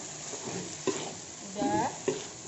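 Minced beef sizzles and is stirred in a frying pan for potato croquette filling, with scraping utensil strokes and a few sharp clacks over a steady frying hiss.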